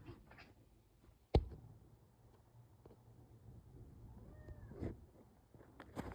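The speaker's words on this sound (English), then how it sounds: "Is there a cat in here?" A cat meows faintly a few times within a quiet Luigi video game scene, soft and distant with a sharp click partway through and low background hum.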